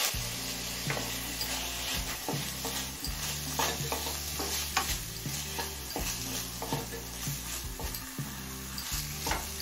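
Chopped tomato fries in a hot pan with whole spices for a vegetable egg pulao, a continuous close sizzle broken by regular scraping stirs of the spatula.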